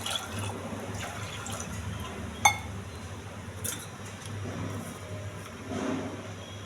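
A glass of water is poured into a pressure cooker holding washed, soaked chickpeas and peas: a steady, close splashing wash of liquid with a single light clink of glass partway through.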